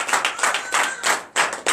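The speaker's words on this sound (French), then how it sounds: "Donnez encore de vives acclamations." A church congregation claps during a deliverance and prophecy night service, quick bursts of close hand claps in uneven clusters with brief gaps, loud and without talk.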